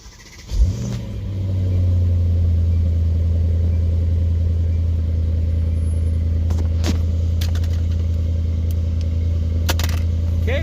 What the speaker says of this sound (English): Okay, car's starting up.